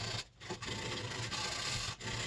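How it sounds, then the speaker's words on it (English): Hard edges of a wooden box are sanded by hand with 220 grit sandpaper, giving a close, steady rasping rub in a few back-and-forth strokes with short pauses, and no one talking. "I could break all the hard edges on the box with 220 grit sandpaper"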